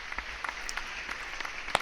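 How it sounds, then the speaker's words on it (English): Applause piped in during an awards presentation, a steady wash of scattered clapping with a few sharper claps standing out, moderately quiet and continuous throughout. "Are you piping in the clapping sounds?"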